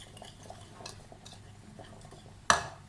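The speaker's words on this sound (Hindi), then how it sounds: "पहले इन चीज़ों को मिक्स कर लेते हैं।" Ajwain, black pepper, salt, tomato and crushed red chili being stirred together in a bowl, soft scraping and mixing sounds capped by a sharp utensil clink near the end.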